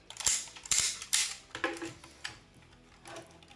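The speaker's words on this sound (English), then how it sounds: "you can move this 90 degrees front and 90 degrees back on really hard ratchets" Stiff ratchet joints on a Hasbro Armada Unicron toy click as the limbs are worked, a series of sharp, close plastic clicks in uneven bursts, about a half dozen, fading toward the end.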